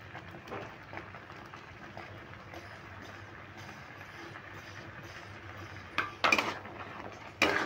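Thick kheer being stirred in a pan after about eight hours of slow cooking, grated coconut about to go in; a soft, steady scraping texture runs throughout, with a few sharper clinks of spoon against pan near the end.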